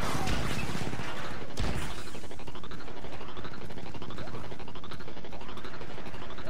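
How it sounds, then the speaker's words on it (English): Enemy gunfire in Star Wars Battlefront 2 on a modded Mos Eisley map, a dense continuous crackle of rapid blaster shots with one sharper blast near the start, loud and unbroken throughout. "let's start shooting at me as soon as I get out"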